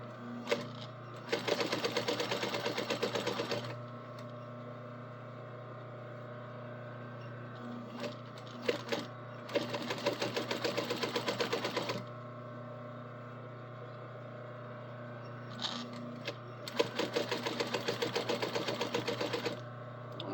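A sewing machine stitches down a belt loop in three rapid, rattling bursts of stitching, close and fairly loud, over a steady low motor hum, with quieter pauses between the runs.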